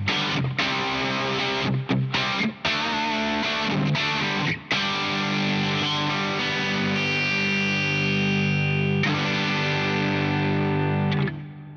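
Electric guitar played through a distorted Vox amplifier with no pedals, a steady run of crunchy overdriven chords and notes lasting about twelve seconds, loud and close with brief gaps between phrases and no talking.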